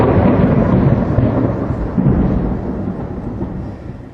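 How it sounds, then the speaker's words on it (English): Thunderstorm sound effect in a music track: a loud, broad rolling rumble of thunder with rain-like hiss, swelling again midway and slowly fading, no voices. "And then there's this thunderstorm."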